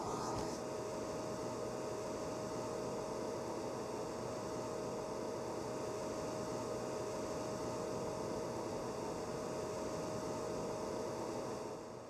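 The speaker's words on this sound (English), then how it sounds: "It's a decade later, and I'm still sleeping with my blow dryer." A hair blow dryer runs steadily as a night-time sleep sound, giving an even, unbroken whoosh of airflow with a faint motor hum that holds at the same level throughout and cuts off right at the end.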